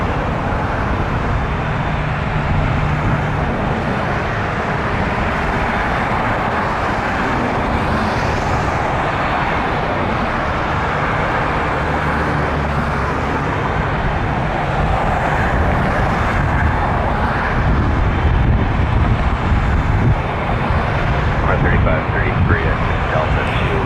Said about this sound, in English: A330-300 series from Vancouver, coming into land at 2-3.